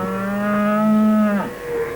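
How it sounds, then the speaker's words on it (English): A cow gives a single loud, close moo, a long steady low call that falls away at the end. "it was a cow that went moo, Bungle."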